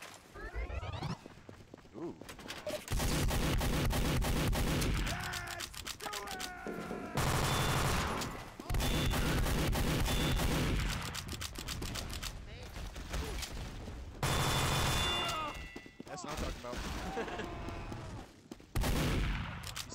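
Gunfire in the game Team Fortress 2, loud rapid bursts of shots in several separate volleys with short gaps between them, up close, with a player's voice talking around them.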